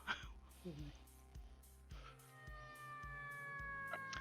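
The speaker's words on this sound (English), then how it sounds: "that was a cat at first" A cat meows a few times in quick succession in the video game Shadowrun, against a low, droning background with a rising tonal whine near the end.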